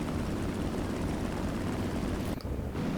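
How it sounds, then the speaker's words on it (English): Enemy aircraft engines in War Thunder, including the SU-6, drone steadily and loudly, a continuous rotor-like roar that holds for the whole moment with a brief dip near the end. "there's 5 enemy aircraft headed my way"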